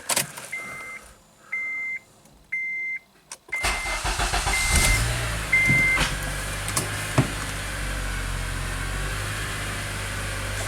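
An Acura TSX with a newly replaced alternator backs out: a few clear reverse-gear chime beeps in a quiet cabin, then the engine runs and the car rolls with a steady rumble and occasional clicks and knocks.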